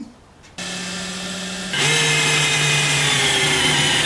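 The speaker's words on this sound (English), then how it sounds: "We need to get a drill bit going right through into the engine bay, coming out to the interior." A power drill bores through a car firewall with a steady high whine that starts abruptly, then jumps louder and harsher partway through as the bit bites, running continuously and close with no talking.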